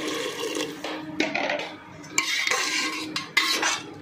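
Water poured into a pressure cooker for oats, with splashing and filling sounds mixed with clinks of a utensil against the metal pot in short bursts.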